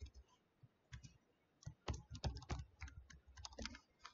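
Password keys are typed on a computer keyboard in quick, uneven clicks and taps, close and fairly quiet, with short pauses between bursts and no talking.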